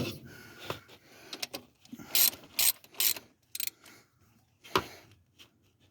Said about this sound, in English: So we'll tighten that corner, the back corner, and then we'll tighten the front corner